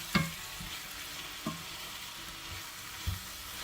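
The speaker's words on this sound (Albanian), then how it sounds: "Vazhdojmë kështu në zjarr mesatar, përgojmë për 4-5 minuta" Quiet, steady sizzling of meat frying in a pan over medium heat, punctuated by a few sharp scraping or stirring knocks.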